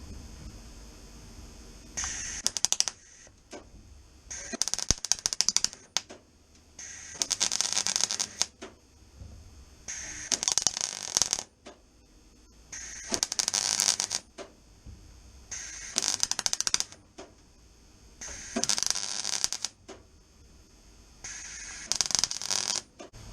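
Bursts of welding on a Classic Mini battery box, about eight separate crackling, hissing runs of a few seconds each with short quiet gaps between them, close and fairly loud.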